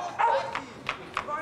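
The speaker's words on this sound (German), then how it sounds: "wie kommt der Hund hierher?" A dog gives several short yips and barks in an indoor domestic scene, spaced out over about a second and a half, mixed with background movement.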